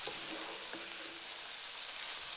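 Garlic, ginger and tomatoes fry in a pan for a squid dish, a steady bright sizzle with a faint stir or two, close and continuous with no voices.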